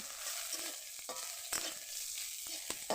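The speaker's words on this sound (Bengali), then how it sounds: "ভাজা মাছে আর একটু ভেজে নেব, নাড়িয়ে চাড়িয়ে হালকা করে একটু গরম করে নেব" Puti fish frying in hot oil while being stirred, a faint steady sizzle broken by several short scraping stirs, close by and with no voices.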